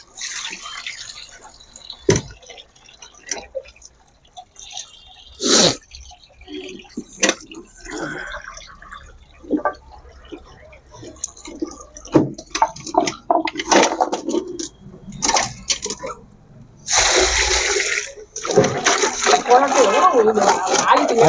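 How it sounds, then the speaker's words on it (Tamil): Freshly harvested turmeric from a terrace garden is washed in water and poured out, with scattered drips, splashes and sloshing bursts that grow into a longer pour near the end while people talk throughout. "அப்படியே கழுவி இதில் எடுத்து போட்டோம்"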